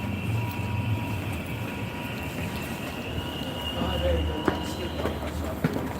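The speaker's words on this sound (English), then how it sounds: "I came in Upper Manhattan and I caught the subway all the way" A New York subway train rumbles steadily underground, with faint wheel squeals and metallic clanks over a constant low roar.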